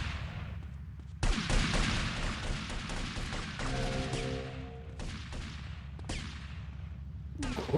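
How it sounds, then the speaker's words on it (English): Bursts of gunfire in Grand Theft Auto: Vice City (Definitive Edition) as rival gangs shoot it out, with rapid volleys, heavy booms and a steady electronic tone in the middle, all loud and close with no talk. "Who is shooting who here?"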